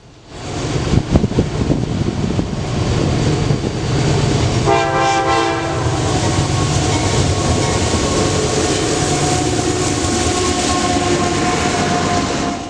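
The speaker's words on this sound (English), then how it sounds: "the crew of this train also gave a horn salute" A Kansas City Southern mixed freight train rumbles past close by in North Louisiana with steady clattering wheels, and partway through a loud, sustained multi-tone horn blares over the noise.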